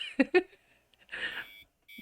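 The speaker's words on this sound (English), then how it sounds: "I roll over and slap the snooze button on my alarm." An alarm clock beeps in a visual novel video game, short electronic tones: two sharp bursts, then a longer buzzing stretch and another tone starting at the end.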